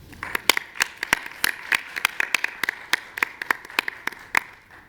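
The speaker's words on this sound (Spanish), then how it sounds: "Un aplauso, por favor." A small audience at a youth public-policy forum gives scattered, uneven applause: a run of sharp, close hand claps of varying loudness over about five seconds, with no one talking.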